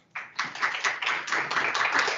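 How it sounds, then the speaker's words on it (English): An audience at an agriculture committee meeting breaks into applause, a burst of clapping that starts abruptly and carries on steadily, fairly close and with no talking over it. "Let's give him a round of applause."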